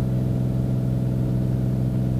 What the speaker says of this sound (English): Let the engine stabilize.